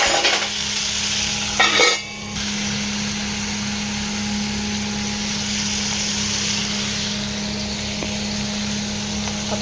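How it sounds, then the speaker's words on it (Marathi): Soya chunks frying in a pan, an even sizzling hiss with a brief clatter of stirring near the start, then a steady close fry over a constant low electrical hum. "टाकून मग आपण थोडं फ्राय करून घेऊया"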